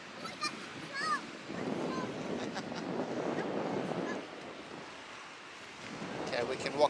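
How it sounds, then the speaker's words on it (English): Sea waves and gusty wind at Prasonisi Beach on Rhodes, Greece, where two seas meet; rushing surf and wind buffeting the microphone swell and fade in irregular surges, with faint voices at moments. "on this side is a lot of waves and a lot of wind"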